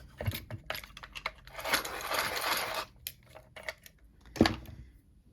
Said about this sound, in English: let me sharpen this turquoise pencil